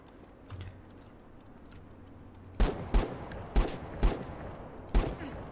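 Gunfire in a first-person shooter video game: after a quiet stretch, five sharp, fairly loud single shots ring out at uneven intervals over faint background sound.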